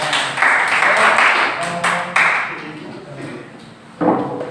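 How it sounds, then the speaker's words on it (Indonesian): Applause from a classroom group of teachers for a presenting team, a broad clapping burst that fades after a few seconds, then a brief second flurry near the end, with a voice speaking in between. "beri tepuk tangan dari kelompok Ines"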